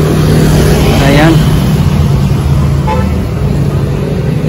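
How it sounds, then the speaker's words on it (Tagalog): Highway traffic running behind the Pasig River Esplanade, a loud continuous roar of passing cars and buses with a car horn tooting near the start and a fainter toot later. "Ang likod mismo ng Pasig River Esplanade guys ay highway ito."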